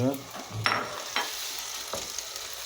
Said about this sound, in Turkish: Etimizden soğanı kavuruyoruz güzelce.